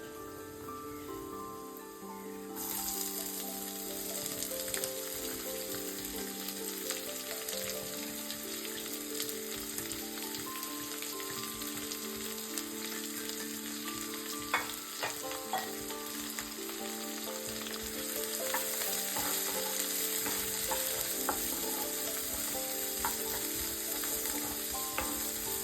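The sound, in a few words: sautéing cashews, ginger and green chili in a pan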